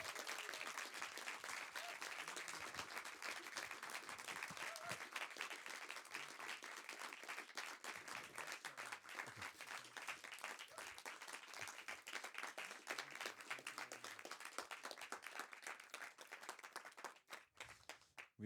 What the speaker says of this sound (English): let's have a huge round of applause for Wynn Thomas.